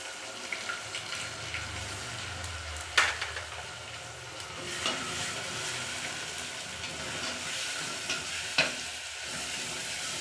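Ginger-garlic paste and chopped green chillies are stirred in a pan over a wood-fired stove, a soft sizzle running underneath with a few sharp scraping knocks of the spoon against the pan.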